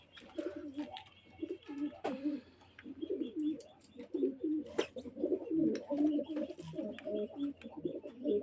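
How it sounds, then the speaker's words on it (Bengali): Pet pigeons kept at home coo close by in repeated low, throaty phrases, with a few sharp chirps and clicks between them. The sound is moderately quiet, with no talking. "এই যে আমার একটা কবুতর"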